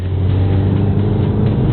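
A MINI John Cooper Works with its sports exhaust drones loudly and steadily on a race track, a close, sustained engine and exhaust note holding at high revs throughout the short burst, with no talking.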